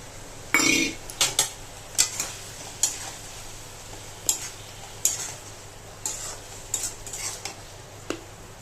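Two pieces of fish go into spice paste frying in oil in a pan, giving a low sizzle punctuated by a series of sharp clinks and scrapes from a utensil against the pan.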